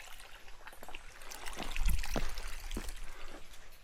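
A small waterfall trickles near a wooden trail bridge on the Mountain to Sea Trail, a faint, steady wash of running water with a few soft splashes and no talking.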